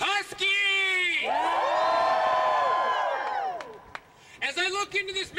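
Crowd whooping and cheering at the Huskies on the Hill rally, a loud sustained roar of many voices with shouts rising above it, fading and then bursting up again.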